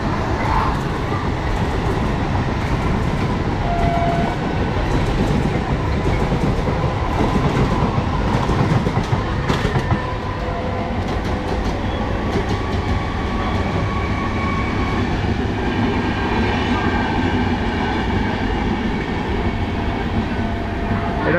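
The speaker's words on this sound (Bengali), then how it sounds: "লোকাল ট্রেনটা বেরিয়ে গেল।" A Kolkata local train pulling away along the railway line to Belur Math, a loud, steady rumble with clattering wheels and rail noise heard up close from another slow-moving train for the whole stretch.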